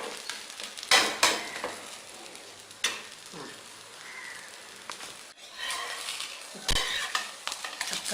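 Pesarattu, a mung bean crepe, cooks in oil on a pan with a soft steady sizzle, broken by a few louder clinks and scrapes of a spatula against the pan.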